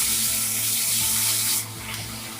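Chopped ginger garlic paste frying in a pan for bhindi masala, a loud continuous hiss and sizzle that eases slightly partway through.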